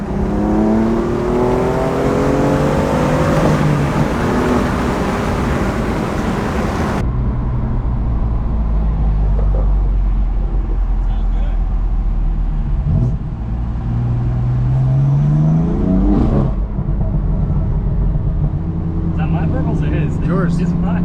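BMW M4 F82 with catless VRSF downpipes and a Stage 2 tune revving hard through the gears, the engine note sweeping up between shifts, loud and close inside the cabin while people talk over it.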